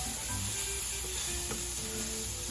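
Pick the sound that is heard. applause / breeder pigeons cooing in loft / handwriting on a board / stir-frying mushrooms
stir-frying mushrooms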